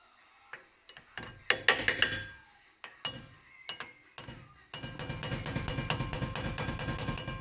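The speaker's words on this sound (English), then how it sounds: "I had to use a punch and a big hammer just to drift it all the way in." A punch and big hammer drifting a brake caliper pin into a 1972 VW Type 3 Squareback: sharp metallic strikes, first scattered and uneven, then a fast steady run of close taps.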